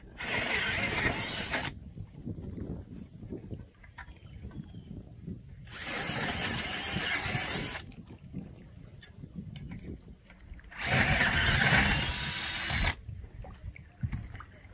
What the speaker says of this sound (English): If you're drilling through the floor, especially this woven floor,